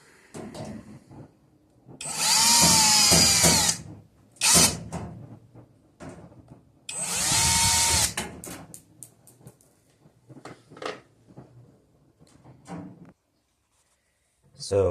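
Two long bursts of a buzzing power drill whirring, each a couple of seconds, removing screws from a Stirling clothes dryer's back panel, with clattering handling noises and short taps between them.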